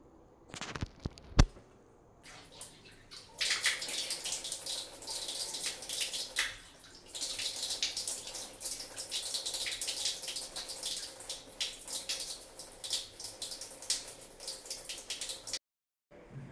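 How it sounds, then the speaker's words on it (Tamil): Water splashing at a sink as a face is washed, a continuous close hiss of running water with irregular splashes and rubbing over about twelve seconds, after a few sharp knocks at the start. "ஃபேஸ் வாஷ் பண்ணலாம் வாங்க"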